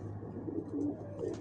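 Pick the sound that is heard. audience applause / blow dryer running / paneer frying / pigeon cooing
pigeon cooing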